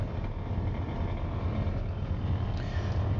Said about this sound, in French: La ventilation fonctionne.